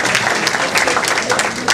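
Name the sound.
applause at a community celebration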